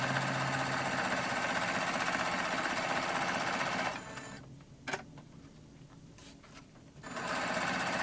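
A sewing machine stitching fabric for a throw pillow, a loud close mechanical whir that stops briefly with a couple of handling clicks, then resumes.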